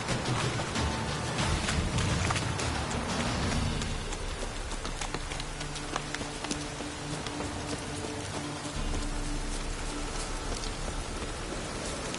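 Heavy downpour rain in a video game, a dense, constant hiss of falling rain that stays loud and steady throughout, with no talk.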